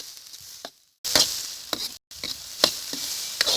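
Spices fry in a pan while being stirred and mixed, a steady close sizzle broken by scraping strokes of a spoon, with one or two short silent gaps.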